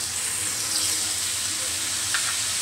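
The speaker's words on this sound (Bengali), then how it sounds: "আরও কিছুক্ষণ আমি এটা ভালো করে কষিয়ে নেব, একদম মেরে মেরে কষিয়ে নেব" Raw jackfruit curry masala with whisked curd sautéing in a pan gives a loud, continuous hissing sizzle, close and steady throughout, with a faint clink near the end.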